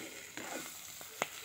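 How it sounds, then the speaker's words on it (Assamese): Cauliflower florets frying in a pan with salt and turmeric give a faint, soft sizzle, broken by a few light clicks of stirring. "এতিয়া ফুলকবিখিনি ভালদৰে ভাজি লৈছোঁ"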